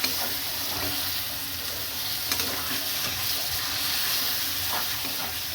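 Taro greens with salt and turmeric stirred in a frying pan, giving a steady close sizzle with soft scraping strokes throughout, no voices.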